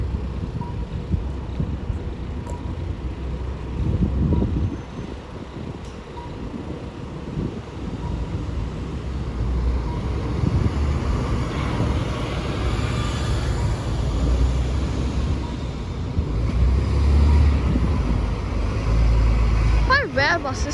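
A Sydney bus rumbles past at a Parramatta bus stop, a deep engine drone that swells and fades over low traffic and wind, with a person talking over it.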